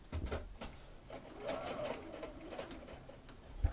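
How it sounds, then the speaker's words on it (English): A sewing machine stitches in the ditch along the seam line of a double welt pocket, running in a close, steady mechanical whir with brief pauses and a soft thump at the end. "I have now stitched in the ditch or sink stitched along the seam line of the pocket to hold those layers together"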